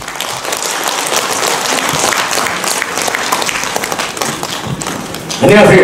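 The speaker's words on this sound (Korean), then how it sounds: "먼 곳에서 올라오신 우리 이병창 교수님을 위해서 힘찬 박수 부탁드립니다." An audience in a large district-office auditorium applauds a visiting professor at a filial-piety day lecture, with dense, steady clapping that ends abruptly as a voice begins speaking near the close.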